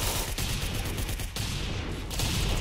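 Guns fire in the Roblox game Arsenal: dense, rapid volleys of shots crackle almost without a break, with one short gap midway before the firing resumes.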